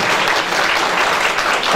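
Loud, continuous applause from the assembled members at an association's general assembly in a cemevi, a dense wash of many hands clapping at once with no pause.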